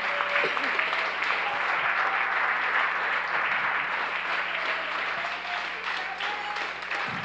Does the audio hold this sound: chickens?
no